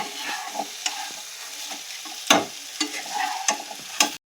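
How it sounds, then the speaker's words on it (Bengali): Prawns fry with masala in a pan, stirred in repeated scraping strokes with sharp clanks of the utensil over a steady sizzle, close and moderately loud, with no talking. "খুব ভালো করে চিংড়ি মাছটা আমি মশলার সাথে কষিয়ে নেব।"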